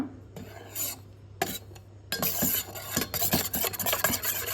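A spoon mixes a powder mixture in a bowl with rapid, gritty scraping and rasping strokes. It starts quieter with a few pauses, then becomes loud and continuous.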